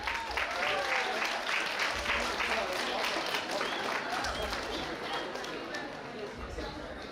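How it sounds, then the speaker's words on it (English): Sustained crowd applause fills an auditorium at a college E-Summit event at Marri Laxman Reddy Institute of Technology and Management, continuous and even throughout, with a murmur of chatter mixed in. "A huge round of applause"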